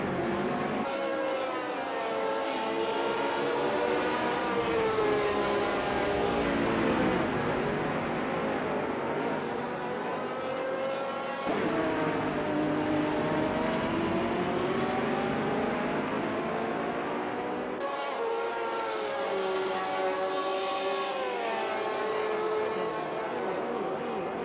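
A race car engine roars in Assetto Corsa, loud and continuous, revving up through the gears with a sharp drop at each shift, sustained for the whole stretch with no talk.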